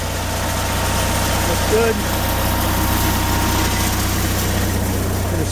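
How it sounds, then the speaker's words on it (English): An RV engine idles steadily just after starting, a constant low rumble with a faint vibrating hum running throughout, while a person briefly speaks over it. "Going to start up the engine."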